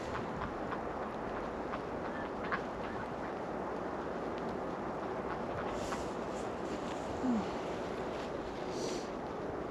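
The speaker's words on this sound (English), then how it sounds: "See what the ducks are doing." Ducks quack outdoors on a cold day in a few scattered calls over steady wind noise and a broad rushing background.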